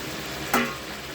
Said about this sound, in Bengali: এটাকে বেশ খানিকক্ষণ ধরে লাড়বো, গলা না অবধি